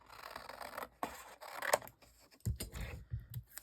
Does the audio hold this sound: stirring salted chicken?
no